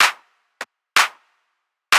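Punchy clap hits in a deep house track land in a steady pattern, with a shorter, thinner accent clap slipped in between two of the bigger ones, like a snare.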